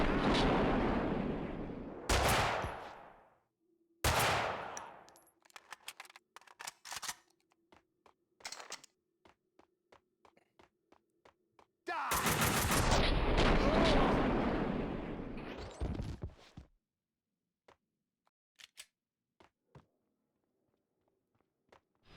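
Gunfire in Max Payne 2: The Fall of Max Payne, with loud bursts of shooting at the start and a long sustained volley midway, separated by sparse sharp single shots and clicks, fairly close.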